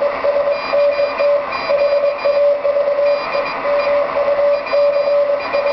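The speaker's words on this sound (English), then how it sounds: "Even while it's decoding Morse here, which is sweet." A K1EL K42 Morse keyer sends a repeating callsign as clean electronic dit-dah tones, a steady rhythmic beeping pattern heard close and clear with a faint hiss behind it.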